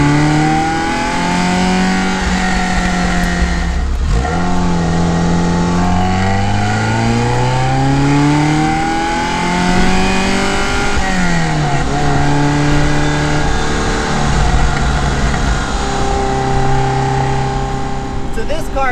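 Classic Ferrari engine revving high around 4,500 RPM while driving, a loud continuous rasping roar that climbs and falls through gear changes, heard from inside the car with no talk over it.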